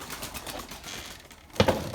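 Erzurum white pigeons coo in soft, low murmurs amid busy rustling, ending with a sudden sharp clatter near the end.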